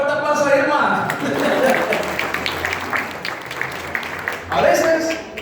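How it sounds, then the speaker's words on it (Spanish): An audience at a church gathering claps in applause, steady and fairly loud, swelling at the start and again near the end, with a voice speaking over it. "Fuerte aplauso a Irma"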